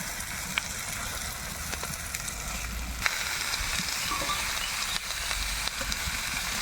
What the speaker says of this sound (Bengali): তেল ছেড়ে দিয়েছে এবার আমি চিকেনগুলো দিয়ে দেবো লেগ পিস